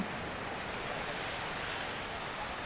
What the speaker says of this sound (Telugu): సముద్రంలో అలలు ఎంత పెద్ద ఎత్తున రావడం నేను చూడడం అయితే ఇదే మొదటిసారి